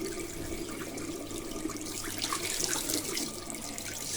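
Water runs steadily from a tap fed by a Vaillant ecoTEC Pro boiler showing fault F62, a continuous close hiss and splash that fills the whole stretch without any talk.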